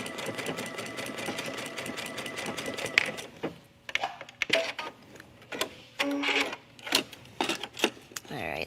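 A domestic sewing machine stitches a tunic: dense rapid whirring for about three seconds, then a series of short stop-start bursts of stitching with small clicks and fabric handling in between, close and clear with light voice in the background.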